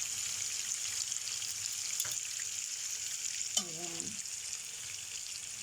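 Tuna fries in butter in a pan with a steady, bright sizzle throughout, and a person speaks a single short word briefly over it.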